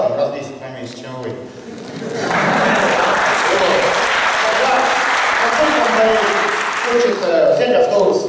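Audience applause from team supporters at a Fakel club event, a sustained crowd clapping that swells and holds for several seconds, with a voice speaking before and after it.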